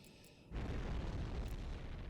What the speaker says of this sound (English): that torpedo's just detonated underwater